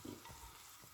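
A small piece of yufka pastry fries in hot oil, giving a faint, steady sizzle and crackle with no talk over it.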